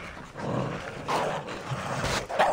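Hyenas attack a camel mount in the Assassin's Creed video game, growling and snarling in several close, harsh bursts over a low game-ambience rumble.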